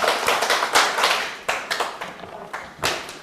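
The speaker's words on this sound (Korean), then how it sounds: "박수 한번 쳐주시고." Scattered clapping from a small class during an exam-prep law lecture: irregular bursts of claps that come in several short waves and fade between them.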